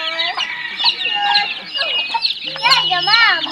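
Several chickens cluck and squawk close by in quick, overlapping bursts, with a rooster-like call rising near the end.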